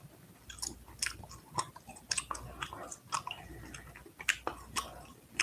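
Gum chewed right at the microphone gives wet, smacking clicks in an uneven rhythm, close and intimate over a soft background hiss, with no talking.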